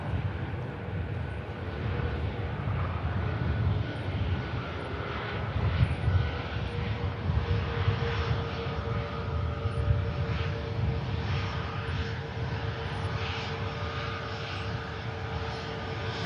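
A Jet2 Boeing 737 MAX jet airliner roars at Manchester Airport, a loud sustained broadband engine rumble holding steady for the full stretch without talk.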